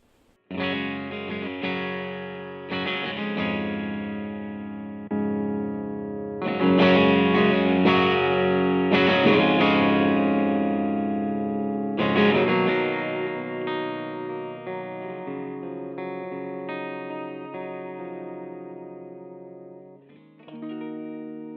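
A Stratocaster electric guitar on its bridge pickup plays through a Dr. ZZ Plus amp pedal, strummed chords ringing out with crunchy overdrive and sustain, loud and alone over about twenty seconds.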